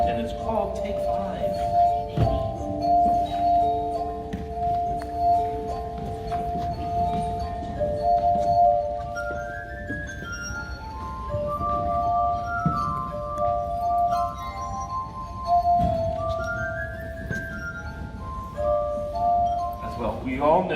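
Glass harp of tuned wine glasses played by rubbed rims, pure sustained ringing tones moving through a melody, fairly quiet and close, with faint clinks and some background voices.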